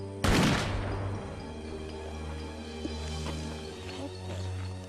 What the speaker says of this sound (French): Tout le monde tire.